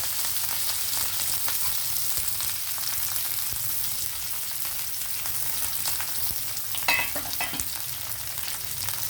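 Curry leaves and green chillies with mustard seeds and dried red chillies frying in hot oil, a continuous crackling sizzle with stirring and a brief louder spatter near the end, no talk.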